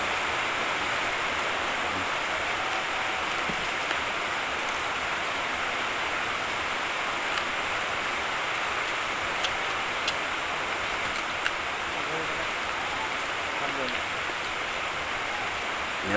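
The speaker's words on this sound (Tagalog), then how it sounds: "Malakas na ulan." Heavy rain pours down in a steady, dense hiss with occasional sharper ticks of drops, constant and loud for the whole stretch.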